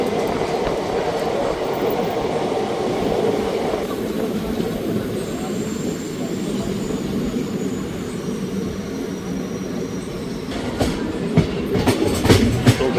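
Passenger train 54551 on its daily Ambala Cantt to Bathinda run rumbles steadily along the rails, a continuous loud clatter heard from inside the carriage, with a sharper burst of rattling near the end.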